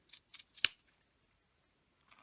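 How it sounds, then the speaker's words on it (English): Rag-snipping scissors cutting fabric around a sewing template, a few quick soft snips followed by one sharper, crisp cut, close and quiet, with silence between. "this is a rag snipping scissors, and these are my favorite scissors for doing this"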